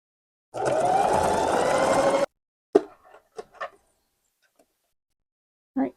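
A sewing machine stitches fleece for a Santa hat, running in one steady, close burst of under two seconds. A few soft handling clicks and taps follow.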